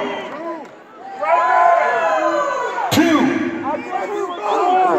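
A packed arena crowd at a hip-hop concert at the Androscoggin Bank Colisee roars, whoops and cheers in a sustained wall of noise, with a sharp slam partway through.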